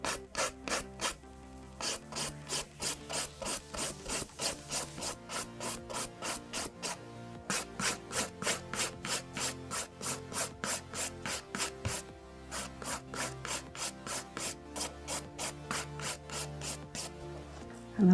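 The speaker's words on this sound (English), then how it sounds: "now filing up and over the nail" A nail file rasps up and over an acrylic nail in quick, regular strokes, a close, rhythmic scratching that runs in steady bursts with brief pauses between runs.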